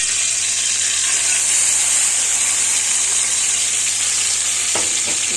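Onions frying in a pan for a ground-meat crepe bake, a steady, loud, even sizzle throughout with a couple of small stirring knocks near the end.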